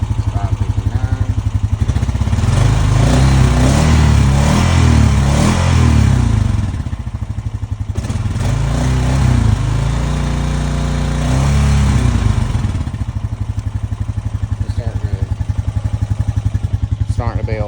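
A new 2025 Honda Rancher 420 ATV engine runs and warms up, a close, steady, chugging idle that swells briefly louder and rougher before settling back to an even putter.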